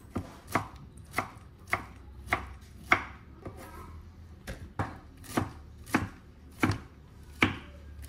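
A knife chops through firm pineapple in regular strokes, about one sharp cut every half second, close and crisp against a quiet background.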